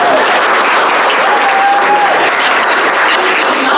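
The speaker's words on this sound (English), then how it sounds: "I would ask that you hold your applause." Audience applause fills a city board of mayor and aldermen meeting, a loud, dense wash of clapping that runs without a break from start to end, with a faint voice beneath it.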